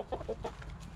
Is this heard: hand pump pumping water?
no